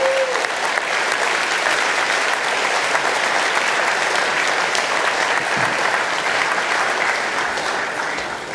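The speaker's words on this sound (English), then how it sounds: "All our grade 12 graduates, give them a big round of applause." Sustained applause from a church congregation at a Sunday service, honouring grade 12 graduates on stage; dense, steady clapping fills the room at an even level for the whole stretch, with no voices over it.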